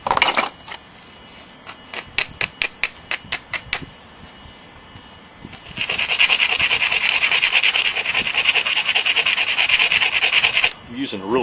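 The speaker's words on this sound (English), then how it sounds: "Using a really small abrader." Small, very coarse abrader worked against the edge of a hippo or warthog ivory billet: a run of sharp separate scrapes, then a sustained loud rasping rub for several seconds, close by.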